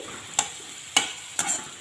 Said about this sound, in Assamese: এফালে আলু ভাজিছোঁ